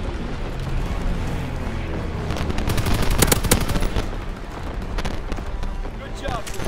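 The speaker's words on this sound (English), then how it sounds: "Incoming enemy artillery" Enemy artillery lands on a Call of Duty: WWII battlefield, with booming impacts and crackling bursts of gunfire that peak sharply midway. Voices talk over the sustained chaotic din.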